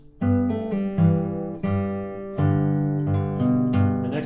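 Acoustic guitar fingerpicks a passage, with an alternating bass reaching down to a low G under ringing treble notes, about eight plucked notes in a steady, close, solo phrase.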